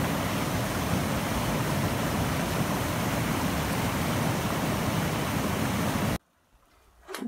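A waterfall at a spring on Middle Creek near Chattanooga gives a steady, dense rushing roar for about six seconds before it cuts off abruptly to near silence.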